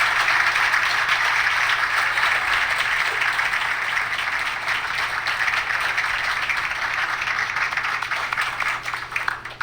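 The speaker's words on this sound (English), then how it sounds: "give a huge final round of applause for our speakers" Steady, dense applause from a crowd, sustained and loud throughout with no breaks.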